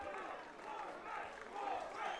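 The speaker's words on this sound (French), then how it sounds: "On les applaudit encore une fois." A crowd at a women's boxing event in Marseille applauds and cheers the fighters, a diffuse, moderately distant swell of clapping and voices that rises and falls over the hall ambience.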